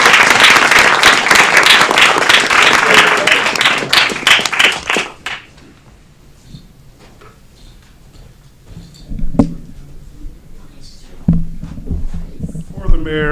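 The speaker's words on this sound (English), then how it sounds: "If we can give a round of applause to Ms. Shanita Anderson" Audience applause at a city council meeting, lively clapping for about five seconds that then fades, followed by quiet room noise, scattered taps and brief talk.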